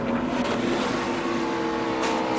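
A NASCAR race car's tire screeches during a crash at Dover in 2017, a loud, sustained roar of tire and engine noise with no pause.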